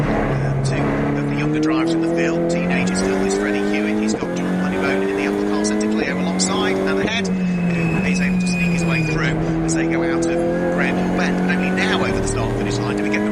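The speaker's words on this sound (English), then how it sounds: "2 cars side by side heading up towards Druids now." Race cars at Brands Hatch circuit, two running side by side toward Druids, roar loudly with continuous engine drone and shifting pitch as they pass, while a commentator talks over the noise.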